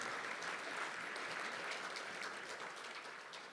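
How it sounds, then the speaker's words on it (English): Steady applause from an audience at an inaugural professorial talk, even and sustained, fading slightly toward the end. "Please give her a round of applause."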